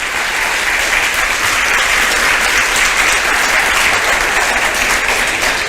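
A church congregation claps loudly and continuously during a celebration service, a thick, close, unbroken roar of applause filling the room at full strength from start to finish.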